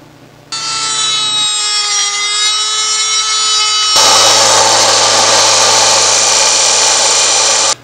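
Power tool cutting and trimming a metal lightsaber escutcheon, a loud high-pitched whining cut that starts abruptly, shifts to a harsher grinding tone midway, then stops sharply.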